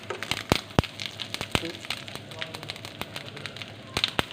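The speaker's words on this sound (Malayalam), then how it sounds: "തീ കുറച്ചിടണമല്ലേ പൊട്ടിത്തെറിക്കും കടുകിട്ടു" Mustard seeds and split green gram lentils spluttering in hot oil in a pan, a dense run of sharp pops and crackles, some loud and close, going on steadily throughout.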